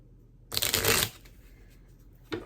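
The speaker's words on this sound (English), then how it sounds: "I think I might actually try and shuffle on camera" A brand-new, never-used deck of playing cards is riffle-shuffled up close in a quiet room, with one crisp half-second burst of fluttering cards, then a short pause and a brief second riffle.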